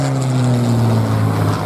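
Spitfire fighter plane flying over a showground at a steam rally, its engine a loud, steady, low droning roar sustained for the whole short stretch, with no voices.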